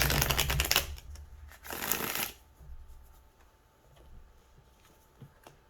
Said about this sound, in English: We'll also pull some additional cards to get a better sense of what the potential outcome could be.